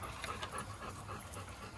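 A farm dog pants quickly and faintly nearby in short rhythmic breaths, with no voices present.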